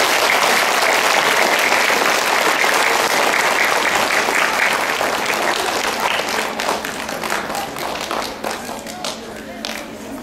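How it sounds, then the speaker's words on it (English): Audience gives a sustained round of applause for a teacher at a school student-of-the-month event, loud dense clapping from a crowd that fades slightly toward the end. "Let's give her a round of applause."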